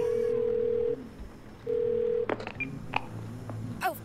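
Phone keypad tones sound in the video game 12 Minutes, a long steady beep, a pause, then another long tone, followed by a few quick clicks and short beeps close up.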